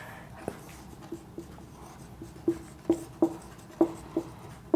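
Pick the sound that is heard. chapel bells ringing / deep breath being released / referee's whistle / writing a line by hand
writing a line by hand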